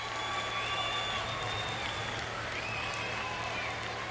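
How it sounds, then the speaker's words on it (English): Excited Swiss fans cheer in an athletics stadium after a close race finish, a steady distant roar of crowd noise and applause filling the air. "there's some very excited Swiss fans underneath us I can hear cheering their heads off"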